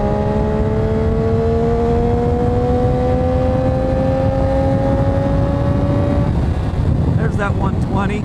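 Triumph 675 Street Triple R motorcycle accelerating hard at speed, a loud steady engine note rising in pitch under heavy wind buffeting, then dropping away near the end.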